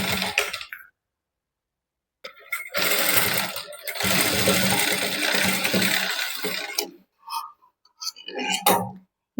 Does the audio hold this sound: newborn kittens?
no